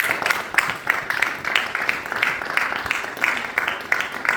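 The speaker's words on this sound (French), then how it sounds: "Il va s'avancer sous vos acclamations" A church congregation claps and cheers for the pastor's son, a dense, steady wash of applause with bursts of cheering throughout.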